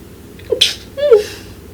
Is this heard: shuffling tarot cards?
no